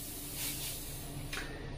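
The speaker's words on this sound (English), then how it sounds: "25 psi, and as you can see, atomises the paint really well" A Creos PS270 airbrush driven by a compressor at about 25 psi sprays opaque paint, a soft, steady hiss close by with faint pulses of atomised spray.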